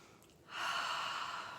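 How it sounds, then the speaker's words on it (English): A single slow, deep inhalation through the nose and mouth swells in after a brief pause and holds steady as an airy, soft breath close to the listener. "Let's take another deep breath."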